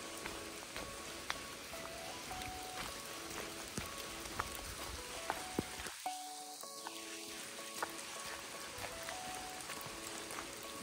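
Rain patters steadily in a forest in France, a dense close drizzle with scattered sharper drops ticking on surfaces, continuous and moderately loud, with a brief muffled dip midway.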